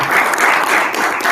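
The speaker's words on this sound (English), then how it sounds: "a big round of applause for Travis Upton" A short burst of loud audience applause closes a finance speaker series talk, a dense, even clatter of many hands clapping nearby.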